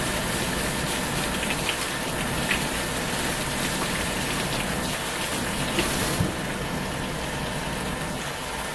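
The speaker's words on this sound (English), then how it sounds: "Let me rinse my hands off" Steady running water from a kitchen tap pours continuously as hands are rinsed while cooking, a broadband rushing wash that stays even and close with no talking over it.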